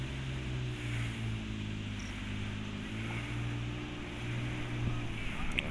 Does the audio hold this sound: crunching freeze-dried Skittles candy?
no